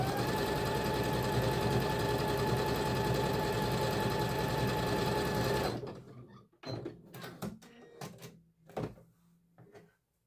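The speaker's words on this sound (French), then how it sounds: "je vais continuer ma couture du coup" A sewing machine runs continuously in a fast, loud, even whir for several seconds, then stops, followed by scattered clicks and handling knocks.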